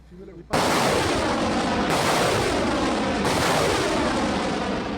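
Army artillery and gunfire strike: after a brief quiet moment, a sudden loud, sustained roar of heavy firing and blasts fills the rest of the clip, dense and continuous.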